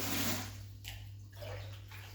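Tap water runs into a bucket as it is filled to mix with acid for prepping concrete before tiling, a steady close splashing wash with a brief dip partway through and a constant low hum beneath.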